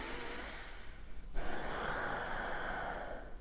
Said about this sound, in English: One thing to include in this time is your ujjayi breathing